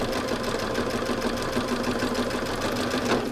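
An appliqué edge is stitched on a sewing machine, a fast, steady, close mechanical whirring with a dense needle rhythm running without pause.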